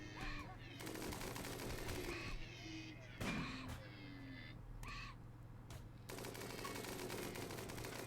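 Sustained automatic gunfire from a fight in the video game RimWorld, dense rapid bursts with brief gaps, close and loud, with sharp single shots and a few caw-like calls mixed in.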